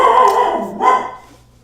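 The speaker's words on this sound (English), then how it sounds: "He's sitting at the window absolutely barking at people just walking past the window." A pet dog sitting at a house window barks at people walking past outside, giving two close, loud bark bursts in quick succession that fade away, with no talking.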